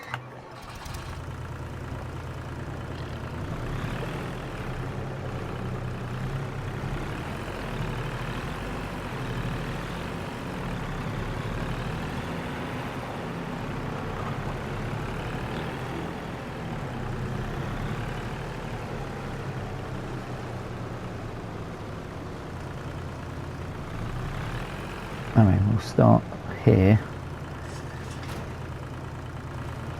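The diesel engine of a vehicle in Farm Sim 25 idles steadily close by with a low, even rumble throughout, and a few louder clunks come near the end. A voice speaks briefly.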